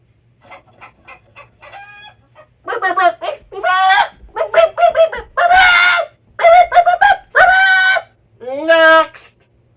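A human voice imitates a chicken: a few soft clucks lead into a run of loud, harmonic squawks and crowing-like calls, performed alone and close up.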